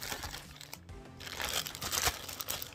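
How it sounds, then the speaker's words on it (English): A plastic zip-top bag crinkles and rustles up close, a quiet, irregular crackling handled by hand. "Now we will put these in a zip top bag"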